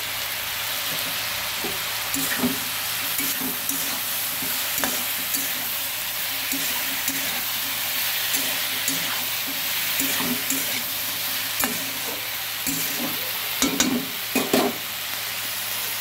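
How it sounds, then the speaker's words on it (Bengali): Steady frying sizzle of vegetables, including eggplant, fills the background while a utensil stirs and scrapes through the pan in intermittent bursts, close and moderately loud. "একটু ভাজা ভাজা হোক, ভালো।"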